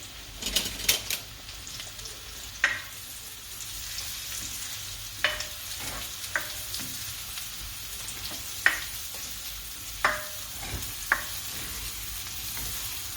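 Porcini mushrooms frying in a pan with garlic and butter give a steady close sizzle, punctuated by sharp clicks and scrapes of a utensil stirring them.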